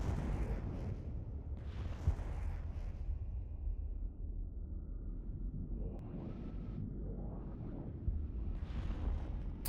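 Missiles launching and blowing up in a spaceship video game battle around a fast capital ship: a steady deep rumble swells with repeated blasts and bursts of hissing noise, loud and continuous with no voices.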